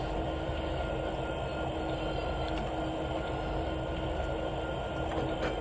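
Steady rumbling railway noise from a train in Trainz 2019, with a continuous dense roar and a faint steady tone running throughout, no talking.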